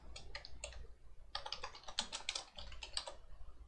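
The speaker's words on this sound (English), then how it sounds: "We can type in the product title" Fingers type on a computer keyboard, entering a product title, in quick uneven bursts of crisp key clicks with a brief pause midway, close and clear with no talking.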